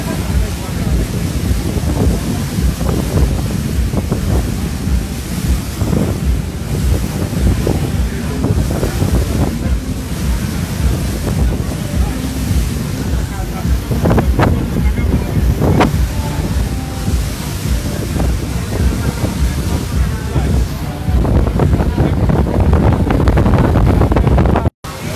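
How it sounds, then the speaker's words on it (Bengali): The passenger launch MV Manami on its Dhaka–Barisal river route: a continuous low rumble of the vessel and water under heavy wind buffeting on the microphone, loud and close throughout, with faint voices in the background. "এটা হচ্ছে এমবি মানামি সালাম শিপিং লাইনের প্রথম লঞ্চ এমবি মানামি"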